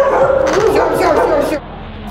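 Dogs in an apartment used as a home animal shelter bark and yip repeatedly in a close, overlapping chorus, with a person's voice mixed in.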